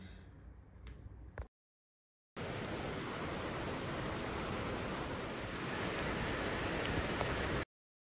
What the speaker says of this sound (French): Alors, bon, là, il pleut, hein, clairement.